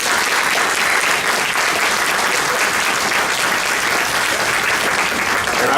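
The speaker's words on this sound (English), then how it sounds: "Please give the candidates a round of applause" Sustained applause from an audience at a city council candidates' debate, dense and steady clapping filling the room at a loud, even level throughout.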